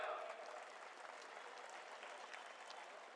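Audience at a political rally speech clapping together, a dense steady wash of applause that starts slightly louder and then settles, heard at a distance and fairly faint.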